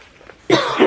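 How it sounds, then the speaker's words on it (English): A single sharp cough bursts out close and loud after a near-silent pause, holding briefly with a rough, throaty tail. "I'm going to cough otherwise"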